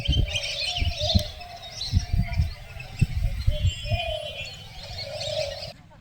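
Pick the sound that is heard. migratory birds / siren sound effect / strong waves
migratory birds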